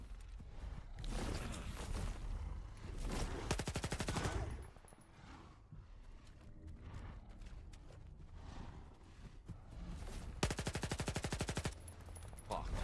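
Rapid automatic gunfire from a Stalker II firefight, loud bursts with a pause mid-clip before another burst near the end, the shots close and harsh.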